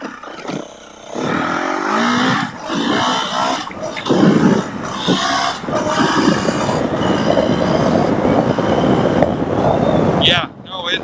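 A KTM/Husky 350 EXC dirt bike engine revs loud and close as the rider climbs through the gears, the pitch rising and dropping with each shift over steady wind and road roar, with brief talk over it.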